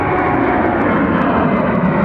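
An airplane roars past at Austin Bergstrom airport, a loud, steady, broadband engine rush filling the whole moment with no talking over it.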